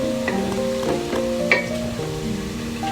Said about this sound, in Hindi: लहसुन और प्याज ये ब्राउन हो रहे हैं।